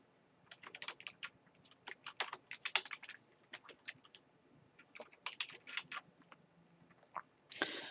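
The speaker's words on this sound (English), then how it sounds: "here we're going to type in Martha's Vineyard" Rapid typing on a computer keyboard, close and fairly quiet, bursts of crisp key clicks in uneven runs with short pauses between them.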